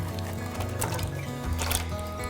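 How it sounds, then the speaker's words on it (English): Onions thrown into a roasting pan holding about four cups of water, giving a steady, close liquid sloshing and trickling throughout. "Let's throw our onions in."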